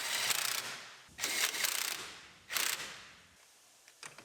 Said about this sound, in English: I'll tighten up our drive axle.